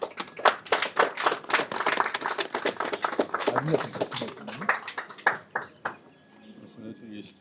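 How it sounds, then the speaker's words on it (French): Close clapping from a small group at an official ceremony with a Russian election observation delegation, sharp uneven claps that taper off, with people speaking around them. "applaudissements"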